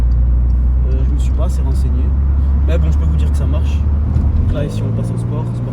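Flat-six engine of a Porsche 911 Targa 4 GTS in Sport Plus mode drones loudly and steadily from inside the car, a deep continuous rumble that drops in pitch near the end.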